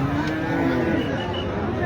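A single drawn-out cattle moo sounds over steady market din at a busy cattle market in Kushtia, with a faint voice in the background.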